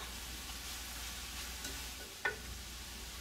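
Spiced stir-fry meat being stirred in a hot frying pan, a steady low sizzle with a single sharp scrape of the utensil against the pan.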